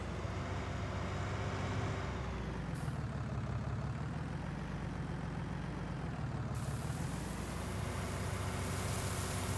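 A farm tractor drives around a corner in Landwirtschafts Simulator 19, its engine a steady, loud, continuous drone with no pauses throughout.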